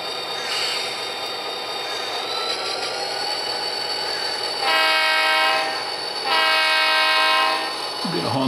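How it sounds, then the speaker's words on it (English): An Athearn SD40-2 model locomotive sounds two long, loud horn blasts over a steady rumbling engine drone, with no talking. "I'm gonna honk for the junkyard now with Mr. Sanford right there"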